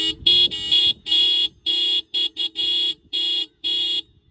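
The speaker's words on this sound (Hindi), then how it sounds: "क्योंकि इसमें डबल टोन का आपको इसका हॉर्न मिलता है।" A loud two-tone horn on a TVS Apache RTR 160 motorcycle honks in a series of short and longer blasts, about nine in a row, close by with brief gaps between.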